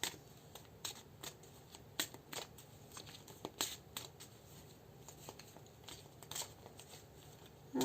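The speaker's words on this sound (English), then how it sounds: "I'll pull one and see what's on the bottom of the deck." Tarot cards are shuffled and drawn from a deck: soft riffling, flicking and slapping of card stock in quick irregular bursts, quiet and close, with no voice.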